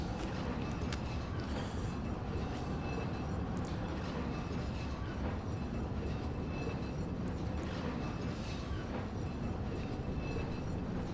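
A train rolls steadily past in Resident Evil 4, a continuous loud rumble and rattle of rail cars with faint clicks, holding at a constant level throughout.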